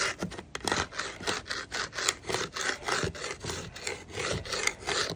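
A paint wand's edge scrapes old paint off an outdoor surface in a steady series of rough, rasping strokes, close and fairly loud with no talking.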